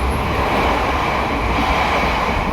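The Kahuripan passenger train runs on the Tulungagung–Blitar line, a loud, steady rumble of wheels and carriage noise heard from inside, continuous and without talk.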